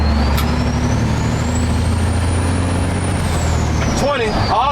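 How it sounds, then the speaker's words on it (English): A truck in Atlanta accelerates with a turbo whine that climbs steadily in pitch over a heavy engine drone, then drops away near the end as a voice briefly talks over it. "All turbo, that's all you get to hear now."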